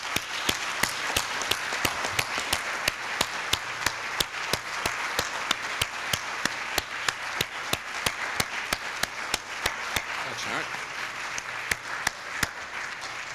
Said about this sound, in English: I hope that you will join me in a robust round of applause to thank Steve Tipton.